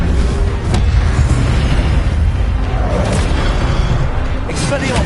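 Incendio fire spell cast in a Harry Potter video game, a booming burst with a fiery whoosh amid repeated loud spell impacts, while a voice shouts spell names over the effects.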